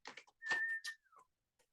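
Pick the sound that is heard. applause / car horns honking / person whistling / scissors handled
person whistling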